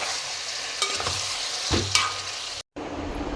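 A spoon scrapes and stirs a cucumber curry with softened tomato pieces in a hot pan, the sizzle of frying running underneath the close, brisk stirring strokes.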